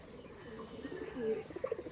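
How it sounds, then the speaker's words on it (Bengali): Giribaz pigeons in a flock give soft, low coos with a few faint chirps over quiet background noise. "এক ঝাঁক পায়রাদের সাথে আপনাদের পরিচয় করাতে আজকে চলে এসেছি"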